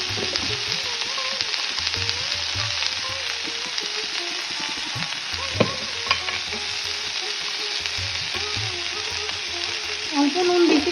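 Sago frying in a pan with salt and turmeric gives a constant close sizzle, broken by stirring scrapes and spoon knocks against the pan.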